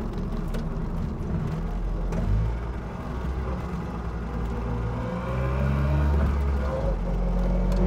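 A Messerschmitt KR200 three-wheeler cruising in fourth gear on a straight road, its small engine a steady buzzing drone with road rumble throughout, close and even in level.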